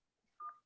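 A single short telephone keypad dialing tone beeps once, clear and close against near silence.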